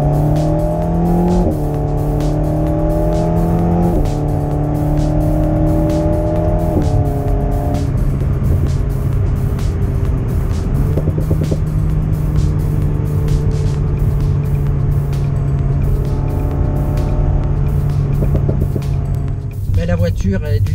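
Alpine A110 S sports car switched into sport mode, its engine droning at a steady, loud idle-to-mid rev with a shift in pitch partway through, someone talking over it throughout.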